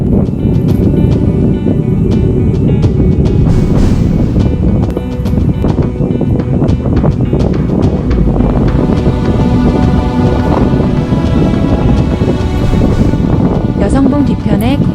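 Strong gusts blow across the exposed granite peak of Yeoseongbong near Obong, a loud, continuous roar buffeting the microphone with rumbling surges throughout.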